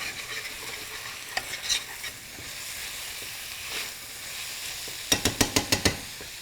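Onions fry in a pan with a steady sizzle, stirred now and then, ending in a quick run of six sharp spatula taps against the pan rim.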